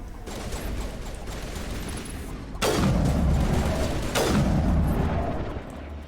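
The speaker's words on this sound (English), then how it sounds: "Cannons are fun." Heavy cannon fire in the sci-fi video game Mass Effect, a dense rumbling barrage with two sharp loud blasts cutting in partway through and the roar sustained before fading.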